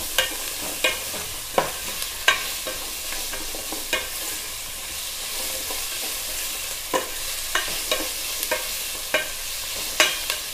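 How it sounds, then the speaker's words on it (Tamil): Paruppu sambar with carrot and potato being stirred in a pot, steady faint sizzling under regular scraping knocks of a spoon against the metal, close and with no talking. "நல்லா மிக்ஸ் பண்ணி விடுங்க"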